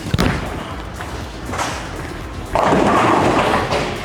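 A pearl-cover bowling ball lands on the lane with a heavy thud, then rolls away with a low rumble that swells into a louder roar near the end.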